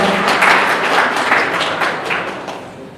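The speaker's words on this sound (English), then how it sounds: "Please give him a round of applause" Audience applause at a school education event, dense steady clapping from a crowd that fills the room and tapers slightly toward the end.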